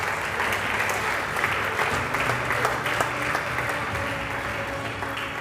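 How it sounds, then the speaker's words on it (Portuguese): Sustained applause from an audience honoring the winning project at an award ceremony in a cultural center hall, many hands clapping evenly and continuously at moderate loudness. "Mais um aplauso, por favor, ao projeto vencedor."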